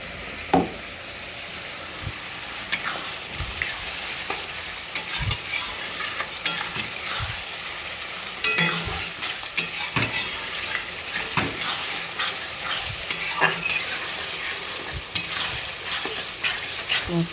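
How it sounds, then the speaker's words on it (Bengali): Spice paste with chopped tomato stir-fried in oil, a steady close sizzle broken by frequent scraping and stirring knocks of a spoon against the pan, with no talking. "এই দেখুন বন্ধুরা, মশলাটা কষানো হচ্ছে, আস্তে আস্তে তেল উঠে আসছে।"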